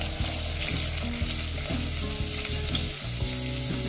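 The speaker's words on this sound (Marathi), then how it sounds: "कांदा, टमॅटो, शेंगदाणे ऍड केलेले आहेत, त्याला आपण छान फ्राय करून घेऊया 2 ते 3 मिनिट।" Onion, tomato and peanuts frying in a pan for khichdi give a loud, continuous sizzle with steady stirring and scraping throughout, no voices.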